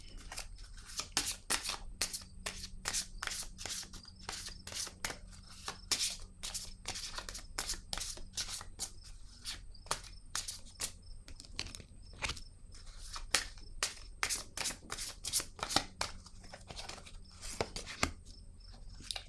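Tarot cards being shuffled and handled, quiet close papery riffles and sharp card snaps repeating irregularly throughout, with no talking.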